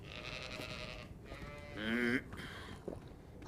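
A single sheep bleats once, a short wavering bleat over a busy outdoor background of wind and rustling, fairly faint in the mix.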